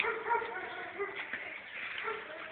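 A tired dog whimpers and yips in short, faint bursts, with a voice talking nearby at the same time.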